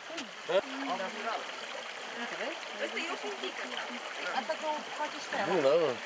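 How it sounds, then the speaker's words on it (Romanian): Carbonated mineral spring water gushes from the ground into a wooden tub, a continuous bubbling, trickling stream heard close by, with a voice speaking over it. "Apa care țâșnește din pământ este captată într-un ciubăr de lemn."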